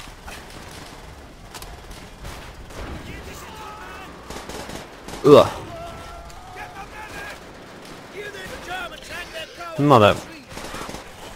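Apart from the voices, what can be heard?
SVT-40 rifle gunfire in the video game Call of Duty World at War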